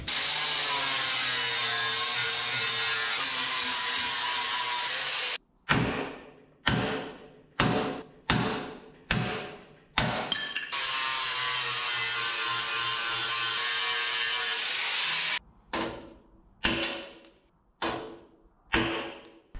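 Rivets are cut out of old bump stop plates from a 1976 GMC short bed pickup. Two long, loud stretches of harsh grinding each give way to a run of short, sharp bursts with brief silences between them.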